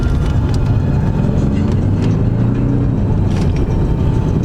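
Maserati Quattroporte engine rumbling and revving at close range, a loud continuous low roar with a few sharper bursts and no clear speech over it.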